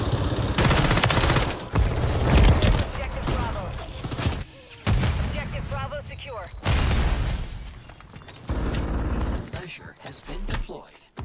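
A weapon's magazine is emptied in Modern Warfare 3, with dense, loud bursts of gunfire broken by brief pauses, mixed with game effects and spoken voices.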